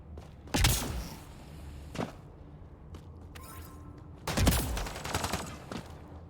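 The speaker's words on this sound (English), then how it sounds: "What are you shooting?" Video game gunfire sounds in two loud, sharp bursts of shots several seconds apart, with a few faint single reports and a hum of background ambience between them.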